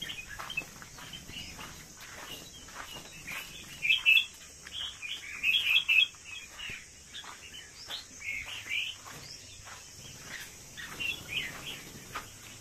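Small caged birds chirp in short, bright bursts, with a few louder clusters of tweets over a low steady background hum, a soft insect-like buzz running underneath.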